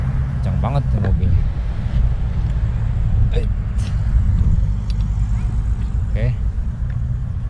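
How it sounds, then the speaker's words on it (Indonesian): Cars speed past on a busy road, a loud continuous rumble of passing traffic with a few sharper whooshes, while people talk over it close by. "Kencang banget tuh mobil."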